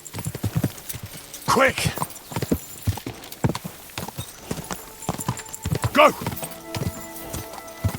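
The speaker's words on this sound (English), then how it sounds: "Easy, good horse." Horse hooves clip-clopping in the medieval game Kingdom Come: Deliverance II, a steady rhythmic trot of moderate loudness, with a couple of brief spoken calls over it.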